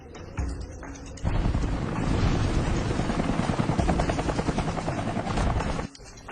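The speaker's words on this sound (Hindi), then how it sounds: "ये हेलीकॉप्टर पे कौन है और ये मेरी जमीन पर क्या कर रहा है?" A helicopter roars close overhead, its rotor chop a loud rapid pulsing that swells in and cuts off near the end.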